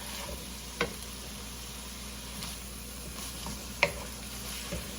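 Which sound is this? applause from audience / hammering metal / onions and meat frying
onions and meat frying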